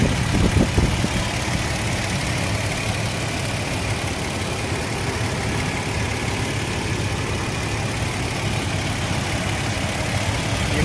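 A 2019 Toyota Fortuner's six-cylinder engine idles steadily at close range, a continuous low rumble with an even mechanical hum and no other sounds.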